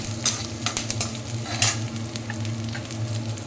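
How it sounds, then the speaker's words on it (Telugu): Garlic frying in ghee for a ragi soup, a steady close sizzle with occasional soft stirring scrapes, no voices. "ఈ వెల్లుల్లి నెయ్యిలో వేయిస్తే చాలా బాగుంటుంది ఇది కొంచెము బాగా వేగాలి"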